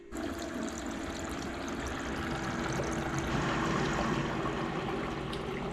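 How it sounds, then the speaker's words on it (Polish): Continuous rushing spray of water from a dishwasher's spinning spray arms sloshing against the walls inside the machine, steady and moderately loud throughout. "Te śmigła się kręcą i pryskają wodą po ścianach, także to słychać."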